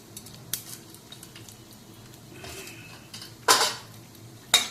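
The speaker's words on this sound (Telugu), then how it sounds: "చట్నీకి తిరువాత వేస్తున్నానండి. ఆవాలు, జీలకర్ర, మినప్పాళ్ళు" A tempering of mustard seeds, cumin and urad dal for peanut chutney goes into hot oil: a quiet simmer, then two loud bursts of sizzle with clatter, each fading quickly.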